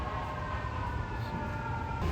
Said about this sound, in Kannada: ಆಂಬುಲೆನ್ಸ್ ಹೋಗ್ತಿದೆ ಅಲ್ಲಿ